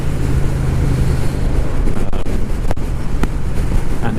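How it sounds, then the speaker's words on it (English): Constant loud wind buffeting the microphone while riding a Triumph Street Cup motorcycle, a dense rushing roar with occasional sharper gusts and thumps and a low engine rumble underneath. "it's very buffeting today"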